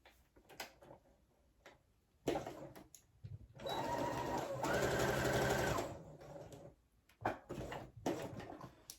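A sewing machine stitches a front pocket on men's pants: short ticking bursts of the needle, then a steady whirring run of about three seconds, then more brief taps and clicks, close and fairly quiet.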